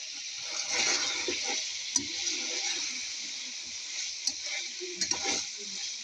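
Onion rings frying in hot oil alongside chicken steak, a soft continuous bubbling sizzle with a few light clicks and knocks of utensils, fairly faint and with no talk.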